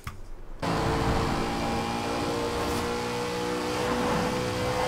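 A mini buggy's engine in the racing game Forza Horizon 4 rises quickly after a short quiet start, then holds a loud, steady drone with a whining tonal hum and no speech.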